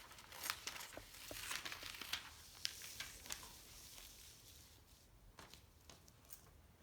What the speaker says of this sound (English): I'm going to move my paper up for a second